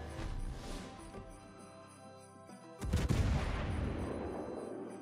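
A Tier VII Japanese cruiser, the Myoko, fires a naval gun salvo in World of Warships, a sudden loud booming blast that cuts through the background game music and rolls out for a couple of seconds.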